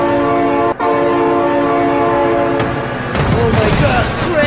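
A train sounds a loud continuous horn close by while passing, with a brief break early on and rumbling wheel noise rising near the end.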